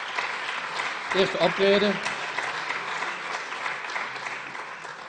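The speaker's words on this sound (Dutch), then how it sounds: "Applaus voor mevrouw Christiaans." Applause fills a council meeting, steady and fairly loud throughout, while a voice speaks briefly over it near the start.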